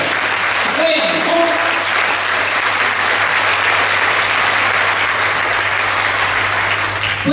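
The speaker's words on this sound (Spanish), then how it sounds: "Dale un aplauso a Dios por eso." A congregation at a healing congress mass claps loudly and steadily, a dense sustained wash of applause filling the church hall, with a low hum underneath.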